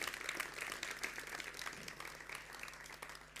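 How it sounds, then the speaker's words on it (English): Continuous clapping from a modest audience after an artist talk at an arts festival session, even and fairly steady across a few seconds over a faint room hum. "So big round of applause for Tharim."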